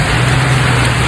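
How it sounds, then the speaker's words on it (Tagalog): Heavy rain pours steadily over a construction site, a loud continuous wash of noise with a low engine-like hum running underneath, no voices. "Kasabay ng ulan."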